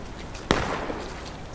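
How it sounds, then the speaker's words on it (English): A single gunshot in the Civil War shooter War of Rights, a sharp crack that rings out fairly far off and trails into a short fading echo, with no voices around it. "Now, did you hear where they're shot? Their shot came from the north."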